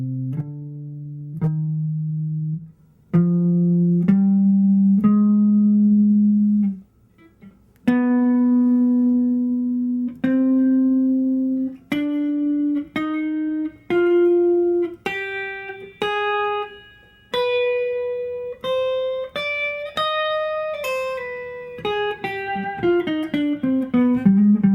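Electric guitar plays a C harmonic minor scale note by note, clean sustained single tones stepping upward then running back down faster near the end, played alone with no talking.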